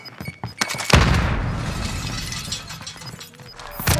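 In a shooter video game, a frag grenade detonates with a sudden loud blast just under a second in, its rumbling debris and echo trailing off over the next few seconds after some faint clicks beforehand.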